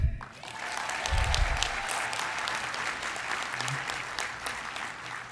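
A large audience applauds steadily for about five seconds, dense clapping that starts abruptly and holds at an even level, with a faint bump of crowd noise near the start.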